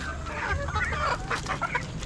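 Hens cluck and murmur steadily close by, several birds overlapping in a busy, continuous chatter.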